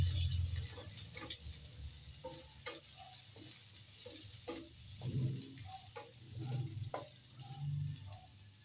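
Chopped onions sautéing in a pan for ginisang monggo with shrimp, a soft steady sizzle with scattered ticks of stirring and light scraping, fairly quiet and close with no talking.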